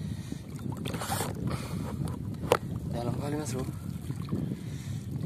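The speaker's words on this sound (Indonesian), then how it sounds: "Di tengah-tengah angin kenceng" Strong wind blows over a wide stretch of open water during snakehead fishing, a steady rushing roar under someone talking, with a brief sharp knock partway through.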